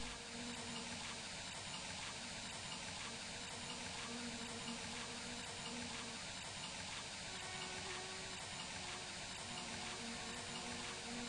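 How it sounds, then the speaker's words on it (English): A shower runs in the video game My Summer Car, a steady, uniform hiss of streaming water lasting the whole stretch, fairly faint and unbroken, with no talk over it. "when you turn that shower on, that's that's a real bucket lid."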